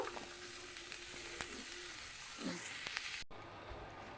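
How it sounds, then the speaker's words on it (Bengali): Mung dal fries in ghee in a pan, giving a soft, continuous sizzle with a few faint stirring scrapes, heard close and alone. "অল্প মুগ ডাল নিয়েছি তো ভেজে নেব ঘিতে অল্প ভাজা ভাজা করে নেব"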